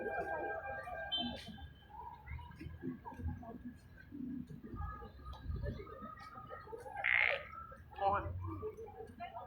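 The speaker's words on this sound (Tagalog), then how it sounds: "Palaka." Frogs croak in short, scattered bursts at a busy night market in Baguio City, rising over a low murmur of crowd talk and background bustle.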